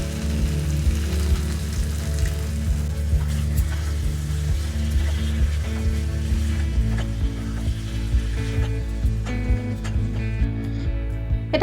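Potatoes and peas sauté in masala in a pan, a continuous close crackling sizzle with occasional clinks and scrapes of a utensil, steady throughout and with no talking.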